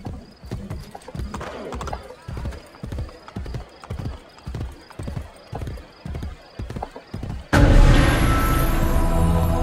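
A horse gallops in Assassin's Creed Brotherhood with rapid, evenly spaced hoof clops, loud and close, then a sudden louder burst of game sound takes over for the final couple of seconds.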